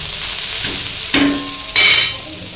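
Ingredients for a cowpea curry are dry-roasted in a pan and stirred, giving a loud, close, steady sizzle with two sharp scraping strokes of the spatula.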